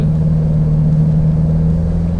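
Toyota Fortuner GR Sport engine pulling steadily under acceleration through a gear change, a loud, even, droning hum heard from inside the cabin, with no talk.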